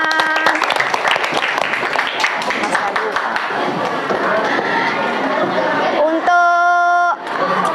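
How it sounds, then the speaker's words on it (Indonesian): Indonesian classroom students clap their hands on cue, a lively mix of clapping and chatter from a nearby crowd of kids throughout, with a sustained tonal sound near the end. "Tepuk tangan."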